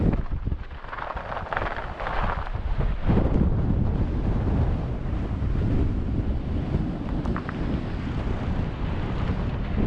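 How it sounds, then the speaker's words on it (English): Bitter winter wind roars across the summit of Pike o' Blisco in the Lake District, about 2,400 feet up, in changing stormy weather. It makes a loud, constant buffeting rush against the microphone for the whole stretch, with no voices. "That wind is absolutely bitter."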